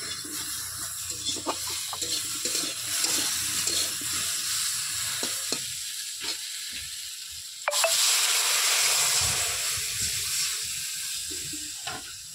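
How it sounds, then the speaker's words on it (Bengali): Water poured into a pan of frying vegetables, with salted fish to follow, for a tangy curry: busy sizzling and stirring first, then a sudden louder, sustained hissing surge as the water hits the hot oil, with no talking. "সবজিটা ভাজা হয়ে গেছে, এবার জল ঢালবে।"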